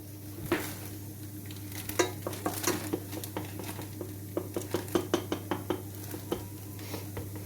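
Chicken curry cooking in a pan, with a soft steady sizzle under a low hum and repeated light clinks and taps of a utensil against the pan, faint and close.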